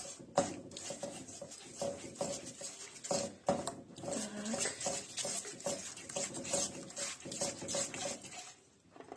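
A spoon stirs half a glass of sugar in a bowl for an Eskimo cake, making quiet, irregular scraping and clinking taps against the dish.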